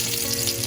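Thin-sliced chilies frying in hot oil alongside bay leaf, a steady close sizzle and crackle with no pauses.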